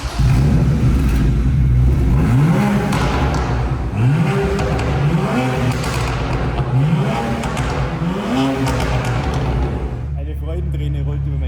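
A BMW 1M Coupe's engine revs up repeatedly with rising roars from a Kravitz exhaust, several pulls in a row, with people talking over it.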